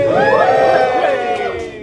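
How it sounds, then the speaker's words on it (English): Audience at a Bristol indie game developers' event cheering and whooping loudly together for about two seconds, a dense burst of crowd voices that fades slightly at the end. "Feel free to cheer for that."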